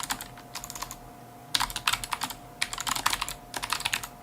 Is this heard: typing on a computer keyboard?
yes